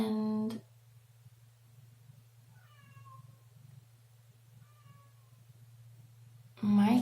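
A kitten gives two soft, faint meows in a quiet room over a steady low hum, with voices talking briefly at the start and end.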